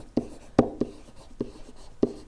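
A number being written on a board, heard as a handful of sharp close taps and short strokes spaced irregularly, with quiet pauses between them and no talking.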